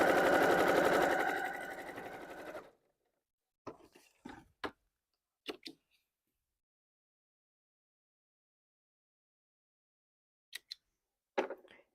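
Sewing machine stitching a quilt top, a loud close run of rapid steady stitching that stops after about three seconds, then scattered short clicks and handling knocks in quiet.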